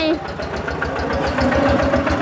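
A tractor engine idles nearby with a low, rumbling chug, while voices talk over it.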